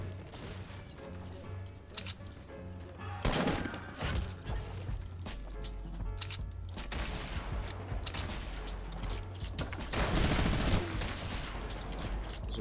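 Rapid bursts of gunfire and grenade blasts fill a first-person shooter match, with heavier explosive crashes around four and ten seconds among dense, layered shots.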